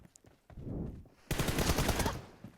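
Rapid automatic gunfire in a PUBG-style battle royale video game, a dense sustained burst of shots after a quieter stretch of softer firing and movement, loud and close.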